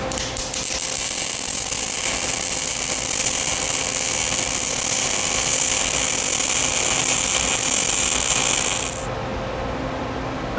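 Arc welding on a homemade lawn roller part gives a steady, close crackling buzz for about nine seconds before cutting off abruptly, no talking.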